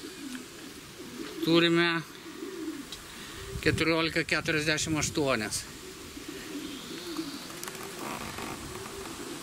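Racing pigeons coo and flutter at the loft after returning from a 633 km race, with a loud close burst early and a longer rippling spell in the middle, while people talk nearby.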